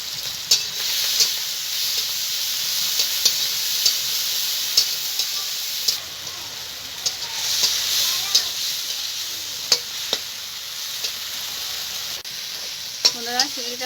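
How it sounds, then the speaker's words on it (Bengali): Prawns fry in hot oil with a constant crackling sizzle, broken by regular scraping stirs. Brief voices come in near the end. "এবার আমি চিংড়িগুলোকে ভেজে নেব"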